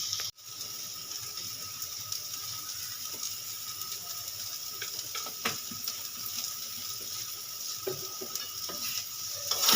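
Taro leaves (kochu shak) stirred in a pan for a Bengali ghonto, a steady close sizzle with scattered scraping spoon clicks throughout, no voices.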